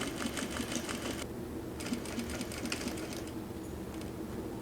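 Juki DDL 8700 industrial sewing machine runs in two quick stitching bursts with a pause between, a soft rapid clatter over a low, steady motor hum.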